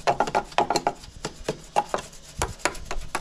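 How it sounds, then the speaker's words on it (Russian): Brush bristles sweeping dust off a car body during rust repair, a series of short scratchy strokes in quick bursts, close and moderately loud, with no talking. "вычищиваем всю пыль, сметаем всю пыль, которая здесь могла осесть"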